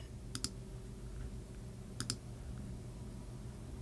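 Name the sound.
computer mouse clicking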